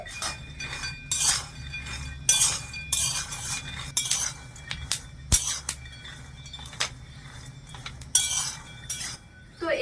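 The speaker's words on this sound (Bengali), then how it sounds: "শুকনো খোলায় নেড়ে ছেড়ে খুব সুন্দর করে মুচমুচো করে ভেজে নিতে হবে" Raw peanuts, about 300 grams, dry-roasted in a pan and stirred until crisp, giving bursts of rattling and clinking against the metal, close and moderately loud, with no talk.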